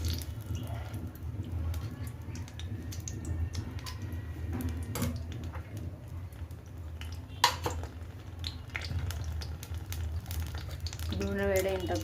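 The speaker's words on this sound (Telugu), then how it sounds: "నూనె వేడైన తర్వాత పోపు దినుసులు వేసుకున్నాం." Tempering spices, chana dal and mustard seeds, cumin and more, sizzling in hot oil for tomato pappu, a soft steady fry with clinks of utensils and pans, and a brief sharp crackle near the end.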